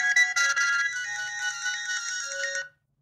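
Call ringtone on a Nokia 235/225/215-style 4G button phone, a bright electronic melody played alone at steady volume for under three seconds before cutting off cleanly into silence.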